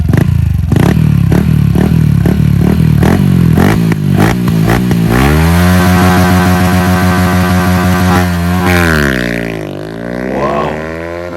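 A Honda Wave 110i motorcycle with a modified baffled exhaust blips its throttle in a run of sharp revs, then holds a loud, steady drone as it pulls away and fades slightly near the end, with no talking.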